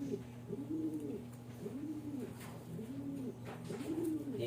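Racing pigeons, back home from a release at Bolinao, Pangasinan, coo softly in a loft. Repeated rolling coos come in a slow rhythm over a faint, steady background hum.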